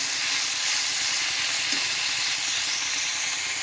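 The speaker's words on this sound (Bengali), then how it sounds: "দিয়ে এবার মাছটাকে আমরা খুব ভালোভাবে ভাজা করে নিচ্ছি" Prawns frying in a hot pan give off a steady, broadband sizzling hiss that stays loud and even throughout, with no voices.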